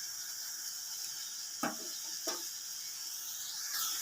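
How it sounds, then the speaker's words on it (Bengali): Salted water boiling hard in a kadai on a gas stove gives a steady, bright hiss, with two short knocks of a utensil against the pan partway through. "জলটা খুব ভালোভাবে ফুটে গেছে।"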